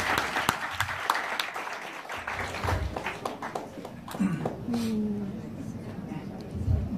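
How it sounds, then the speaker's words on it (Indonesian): An audience claps in applause at an indoor event, a dense crackle of many hands that runs on through the clip. A voice speaks over the clapping. "Beri aplaus sekali lagi buat Dr. Patricia."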